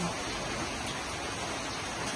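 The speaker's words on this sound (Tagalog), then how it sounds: "Maulan na morning talaga." Steady morning rain falling at a campsite with tents, a dense even hiss throughout, close and fairly loud, with no voices.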